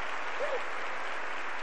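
A church congregation at a women's worship service applauds in a dense, steady wash of clapping, with a brief faint voice-like tone near the start.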